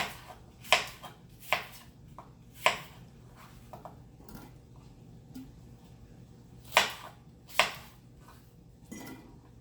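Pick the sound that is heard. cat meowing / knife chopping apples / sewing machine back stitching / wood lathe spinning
knife chopping apples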